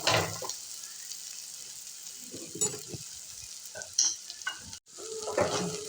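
Masalas with coriander powder sautéed in a pan for pav bhaji, a steady sizzle with clear spatula scrapes and stirring strokes, close and fairly loud, with no talk.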